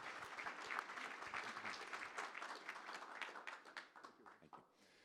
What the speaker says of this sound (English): Another round of applause for all of our finalists.